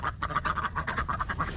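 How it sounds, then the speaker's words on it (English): Three egg-laying ducks quacking close by in a yard, a steady run of short, rapid nasal quacks overlapping one another, with no talk. "Three ducks."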